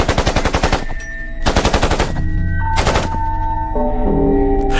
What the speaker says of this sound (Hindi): उन्होंने लोगों से उनका नाम नहीं, उनका धर्म पूछा और फिर अंधाधुंध गोलियां चला दी।